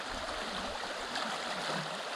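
Floodwater from a swollen creek pours over a submerged beaver dam, a steady, close rushing wash with broad noisy texture and no talking.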